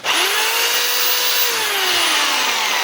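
DeWalt D25133 rotary hammer running in drill-only mode, a steady loud motor whine that spins up at the start and holds evenly throughout with no hammering pulses, no voices present.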